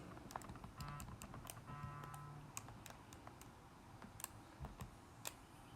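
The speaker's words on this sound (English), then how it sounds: "we'll type this into our calculator" Fingers tap out a quick, uneven run of sharp plastic clicks on a calculator keypad, close and fairly quiet over a faint background hiss, with small pauses between bursts of key presses.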